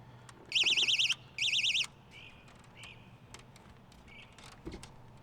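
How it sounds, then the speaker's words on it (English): An electronic carp-fishing bite alarm on a boat sounds two loud, warbling beep bursts in quick succession, followed by fainter chirps and clicks over a quiet background. "use a bite alarm I got off of Amazon"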